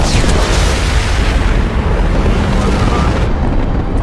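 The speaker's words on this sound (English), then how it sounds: "Was a rather nice explosion." A loud explosion in the Mass Effect 2 video game, a dense roaring blast that rumbles on and fades out over a few seconds.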